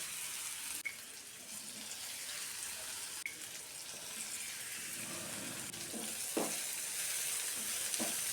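Soya chunks deep-fry in a pan of oil, making a soft, continuous bubbling sizzle with a few light clinks, heard alone and fairly quiet throughout.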